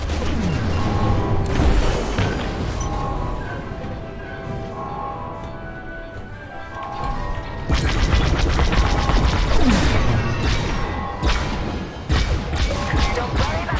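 Bombs explode on the core in Star Wars: Squadrons, a run of heavy booming crashes and thuds repeated over a constant rumbling engine and game noise, with voices talking at times.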